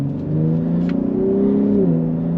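Steady V6 exhaust drone from inside a 2022 Ford F-150 Raptor pickup, rising slightly in pitch as it accelerates, with a smooth, throaty tone and no talking.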